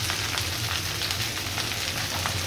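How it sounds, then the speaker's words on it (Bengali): Okra frying in very hot oil in a wok, a dense, steady sizzle and crackle that stays loud and close without a break. "তেলটা আমার একদম গরম হয়ে গিয়েছে। আমি এখন ঢেঁড়সটা ভেজে নিব।"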